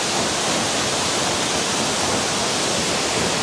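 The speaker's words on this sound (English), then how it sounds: "This is definitely the tallest waterfall we've seen here on Conquering the Earth." A tall waterfall on the Falls Trail at Ricketts Glen State Park roars as a loud, steady, close wash of rushing water with no pauses.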